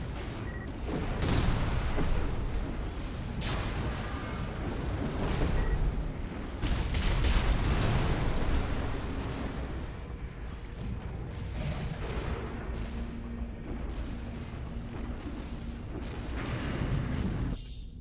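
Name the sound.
shoulder missile launcher firing in a video game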